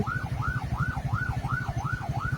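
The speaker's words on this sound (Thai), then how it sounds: "มีรถฉุกเฉินนะครับ เปิดไฟหวออยู่ด้านหลังนะครับผม" Ambulance siren wailing steadily from an emergency vehicle held up behind a motorcade in Thai traffic, a rising-and-falling tone repeating about every half second over a low rumbling engine and road noise, moderately distant.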